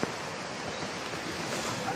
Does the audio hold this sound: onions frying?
no